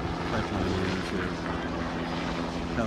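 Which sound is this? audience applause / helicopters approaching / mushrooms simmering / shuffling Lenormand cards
helicopters approaching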